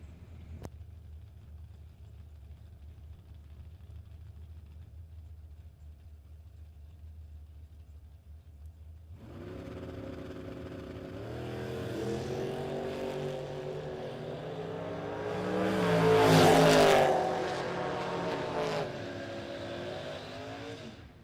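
Drag strip pair, a 1963 Nova and a 1969 Camaro, start quiet then erupt into loud rising engine roars, revving up and accelerating hard before peaking and fading as they pull away.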